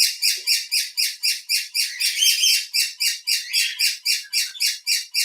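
A pet parrot squawks and chirps repeatedly at close range, a fast, regular series of shrill, piercing calls that keeps going without pause and without talk.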